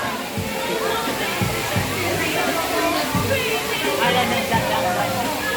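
Water rushing steadily at Twin Falls waterfall, a continuous loud wash and slosh with voices talking over it.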